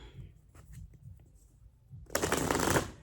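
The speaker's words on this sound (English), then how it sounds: "We are going to shuffle up our cards" Deck of tarot cards shuffled in a burst of dense riffling and flicking, loud and close, after a stretch of quiet soft handling taps.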